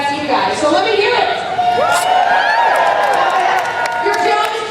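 Live studio audience at a Fear Factor Live park show cheering and whooping loudly, a dense crowd roar with rising yells and whistles, close and sustained.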